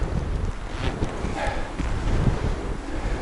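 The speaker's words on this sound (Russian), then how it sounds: "Здесь открытое место и очень ветрено." Strong wind buffeting an open clearing in a forest, a steady rough roar with gusty low-end rumble against the microphone throughout, loud and close, no voices.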